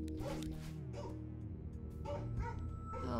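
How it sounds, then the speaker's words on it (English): A dog whimpers and yips in short, high, uneven cries over a steady low background hum, with a few soft barks mixed in, moderately close. "Oh my gosh, poor dog."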